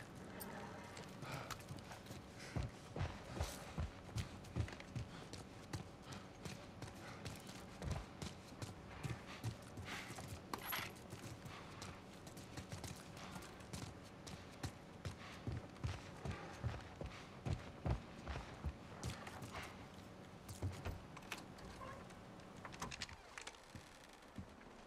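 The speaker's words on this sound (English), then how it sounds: "Let's get back to the horses." Steady clip-clopping of horse hooves in an even walking rhythm, fairly close, with a low background hum and occasional faint voices, in the video game The Last of Us Part I.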